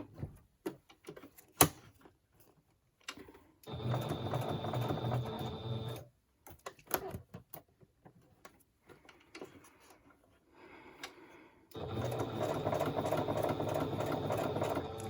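A sewing machine runs in two sustained bursts of rapid stitching, close and clear, separated by quiet stretches with small clicks and handling noises.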